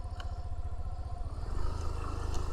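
Car engine idling roughly and unevenly after a manual idle speed control adjustment, close and steady with pulsing low throb and faint clatter, sagging as if near stalling.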